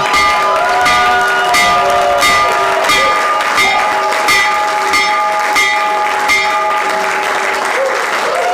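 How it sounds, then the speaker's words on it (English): A bell rings to open the stock market, with repeated metallic strikes in a steady rhythm under loud, continuous applause and crowd noise. "So ring the bell"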